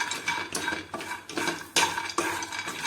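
Pistachios and other thandai ingredients dry-roasted in a pan with the flame off, giving a run of scraping, stirring strokes and light clatter against the metal, close by and steady with no talk.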